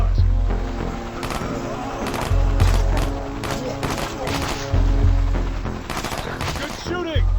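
Rapid gunfire rattles through a zombie-shooter video game, loud volleys of shots repeating in bursts over a steady low rumble and game music, with a voice speaking at times.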